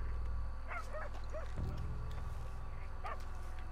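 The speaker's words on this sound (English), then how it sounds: "Dogs barking." Dogs bark a few times at a distance in the Red Dead Redemption 2 video game, short yips over a constant low outdoor rumble.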